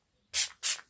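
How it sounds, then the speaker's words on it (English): Iconic London Prep Set Tan self-tanning mist sprays onto arms in two quick, close hissing bursts, each about a fifth of a second, with silence between and before. "I'm just going to spray it onto my arms like it says"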